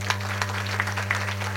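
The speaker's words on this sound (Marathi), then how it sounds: "एकदा याच्या मायबापासाठी टाळी वाजवा" An audience claps at a comedic Marathi kirtan, a devotional storytelling performance, in evenly spaced, rhythmic claps over a steady electrical hum.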